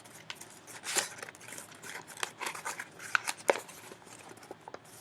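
Sheet of crumpled paper being carefully opened back up and smoothed, giving soft crinkling and rustling with a few sharper crackles, close and fairly quiet, with no voices.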